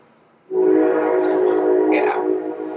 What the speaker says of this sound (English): Do you hear the train?